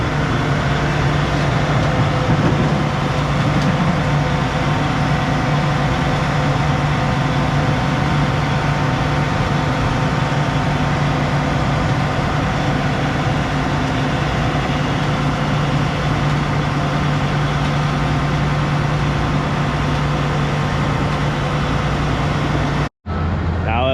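A new combine harvester's engine rumbles steadily and loudly as the machine drives off a delivery trailer, a constant heavy drone with a steady low hum, cutting out abruptly near the end.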